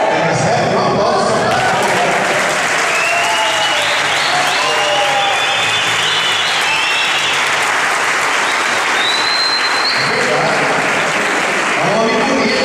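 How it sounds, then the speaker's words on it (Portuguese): A church congregation applauds loudly and continuously for a good while, dense clapping with scattered cheers and whoops throughout. "Recebe uma aplauso."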